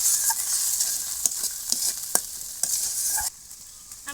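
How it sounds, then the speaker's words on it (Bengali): Spice paste with salt, turmeric and chopped tomato is stir-fried for a village-style tengra fish curry, a steady close sizzle broken by sharp scraping clicks of a spatula against the pan before the frying sound drops off. "দিয়ে এবার নেড়ে ছেড়ে আমি ভালো করে মশলাটা কষাই নেব।"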